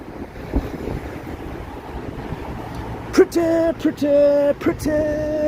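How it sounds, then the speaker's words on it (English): Steady wind buffets the microphone with low, roaring gusts throughout on Bloor Street in Toronto, joined midway by several short, clear tonal beeps or squeaks that repeat irregularly. "It's pretty windy, just New York,"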